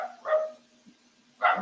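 Dogs bark in two separate bursts, one early and one at the end, with a lower whimpering tone sustained through the quiet gap between them; fairly close and moderately loud, with no talking.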